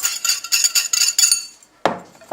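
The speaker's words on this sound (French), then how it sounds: "que je vais mélanger avec un fouet" A whisk beats eggs and milk into dry flour mix for a quick brioche dough, a quick run of rhythmic metallic clinks against the bowl for over a second, then a single louder knock.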